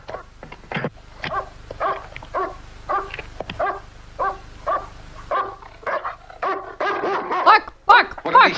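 A dog in a movie barks repeatedly in short bursts with a few whimpering yips, moderately close, interleaved with people speaking over the scene.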